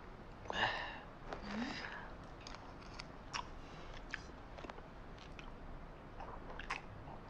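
Quiet close-up chewing of food with a shell in it, with soft wet mouth sounds and a few small crunchy clicks scattered over several seconds, plus a brief hum of a voice.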